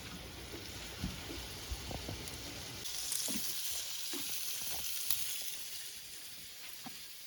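Pork chops fry in a lidded pan with a steady broadband sizzle, punctuated by scattered pops and crackles throughout, close and moderately loud with no talking.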